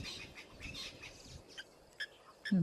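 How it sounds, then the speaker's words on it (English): A crested francolin calls at an African waterhole among other small birds: a few short, harsh, separated bursts toward the end, moderately near, over quiet background ambience. "A crested francolin."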